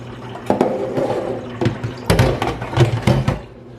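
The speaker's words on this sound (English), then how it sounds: "run some more cold water through this" Cold water runs through a strainer of green beans, splashing unevenly, with a steady low hum underneath and several louder gushing bursts, close by.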